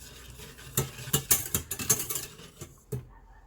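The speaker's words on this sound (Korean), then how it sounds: "약한 불에서 노른자가 익어서 뭉글뭉글해질 때까지 저어주세요" A spoon stirs egg yolks, cream and sugar in a pot over low heat, giving close, quick scraping and light clinking strokes in an irregular rhythm, then a pause and a final tap, with no speech.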